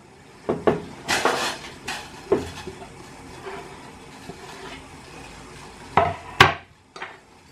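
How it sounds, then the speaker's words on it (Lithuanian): Garlic tipped into a pot of water, heard as a few scattered close clatters and knocks of utensils against the pot over a quiet background. "Į puodą su vandeniu pilam česnaką."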